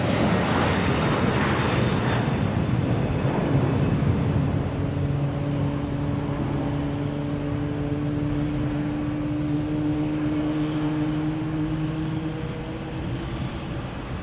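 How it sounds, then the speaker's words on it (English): A Delta Airbus A330 jetliner bound for Amsterdam at Boston Logan, a steady broad jet-engine roar with humming tones that slowly slide in pitch, loud at first and easing gradually as the plane moves away. "Is Delta an A330 heading to Amsterdam?"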